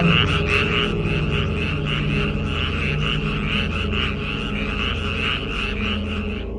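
A dense chorus of frogs croaks after rain in rapid, pulsing bursts, loud and continuous, with a low background hum beneath.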